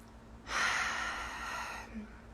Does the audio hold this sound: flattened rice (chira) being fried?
no